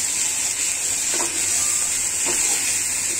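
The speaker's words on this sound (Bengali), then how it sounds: "সবকিছু দিয়ে মাছগুলো নাড়িয়ে নিচ্ছি।" Rui fish pieces sizzle steadily in a hot pan with ginger, onion, garlic, turmeric and salt as they are stirred, a bright constant frying hiss broken by a couple of soft scraping stirs.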